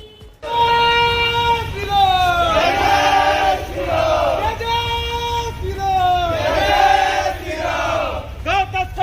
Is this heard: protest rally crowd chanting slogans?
yes